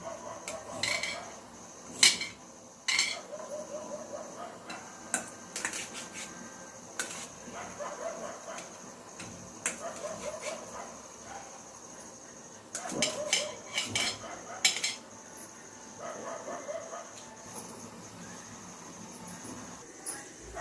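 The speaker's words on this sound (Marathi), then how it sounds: "आता आपण अंड्याचे असे समान 2 भाग होतील असे आपण अंडे कापून घेऊ" A knife cuts peeled boiled eggs into equal halves on a dish for egg masala, with sharp clinks and taps of metal against the plate coming in irregular bursts, close by and with no one speaking.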